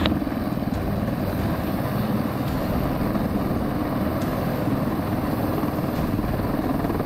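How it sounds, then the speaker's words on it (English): A Huey military helicopter comes in to land, its steady, loud rotor thump and engine roar filling the whole stretch without a break and with no voices. "The landing requires a steady hand and firm command of the Huey."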